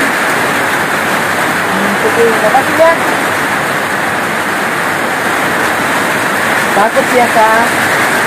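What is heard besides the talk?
heavy rain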